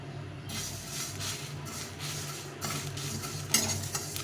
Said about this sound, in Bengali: এটাকে ভালো করে ভেজে দেবো